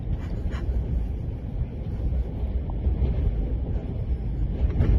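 High winds roar continuously in heavy, buffeting gusts that batter the microphone near a riverbank, loud and unbroken with no clear speech.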